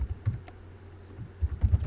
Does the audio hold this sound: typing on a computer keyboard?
yes